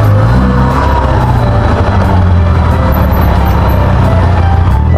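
Car accelerating along a street, a loud, close, steady engine roar from start to finish with no break and no voices.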